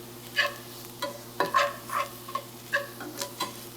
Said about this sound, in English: let the steaks finish cooking